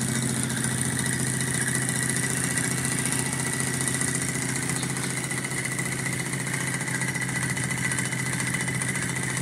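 A small beta Stirling engine with an aluminum frame and mounting plate on stainless steel legs runs with a steady, continuous mechanical whir and hum that stays loud and even throughout, with no voices.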